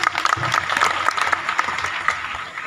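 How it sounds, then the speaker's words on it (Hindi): Audience clapping for the team behind a Shiv temple and dharamshala at a Mata jagran gathering in Mundka, a dense steady patter of many hands throughout with a faint murmur beneath. "मैं कहूँगा एक बार इस टीम के लिए और महावीर सैनी जी के लिए जोरदार तालियां बजाएं"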